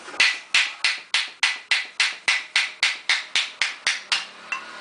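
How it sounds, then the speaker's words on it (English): A rapid series of about fifteen loud, evenly spaced metal hammer blows driving out a Royal Enfield sprocket bearing, each ringing briefly before the next strike. "hammer it from the other side."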